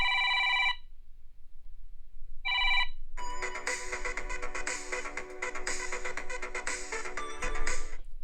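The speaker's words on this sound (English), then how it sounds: "now I have a ringtone that will be a retro neon ringtone" A Samsung Galaxy phone plays its retro neon ringtone: two brief bright electronic tones separated by silence, then a sustained, busy synth melody that carries on to the end.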